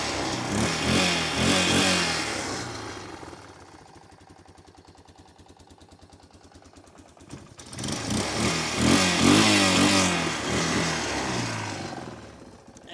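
A 1993 Yamaha Big Bear 350 ATV engine revs up loudly, drops back to a rough idle for a few seconds, then revs hard again, close by.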